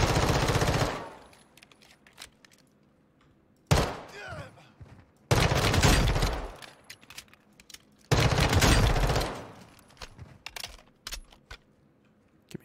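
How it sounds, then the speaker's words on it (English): Automatic pistol fire in Call of Duty MW2, four loud sustained bursts of rapid shots separated by short quieter gaps with scattered game sounds. "I didn't realize this was an automatic pistol"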